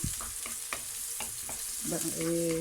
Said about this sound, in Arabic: البصله بتاعتي اهي بدات تدبل